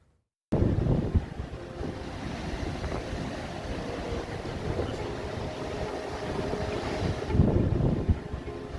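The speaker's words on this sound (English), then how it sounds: "the winds are really picking up" Strong winds from Hurricane Fiona buffet the microphone on the Magdalen Islands, with heavy roaring gusts and crashing surf blending into a loud, continuous wash that swells near the end.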